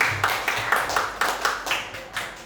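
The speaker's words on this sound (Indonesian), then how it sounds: "Boleh tepuk tangan kok, jangan ragu ya." An audience at an Indonesian school counseling training session claps in a steady run of distinct, fairly even hand claps about every quarter second, moderately close and without talk over them.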